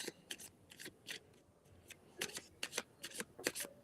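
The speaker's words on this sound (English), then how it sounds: "let me just pull a few more cards just to see what else" Reading cards are pulled and shuffled in a quiet room, giving faint, uneven bursts of papery riffling and snapping.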